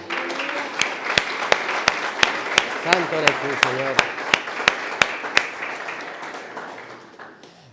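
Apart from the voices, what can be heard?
applause for the King of Kings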